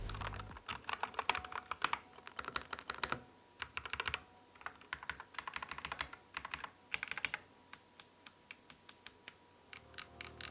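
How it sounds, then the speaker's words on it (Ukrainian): Rapid clacky keystrokes from a mechanical TKL gaming keyboard, typed in bursts with short pauses, close and crisp with no voices. "Ось як звучить друк цієї клавіатури."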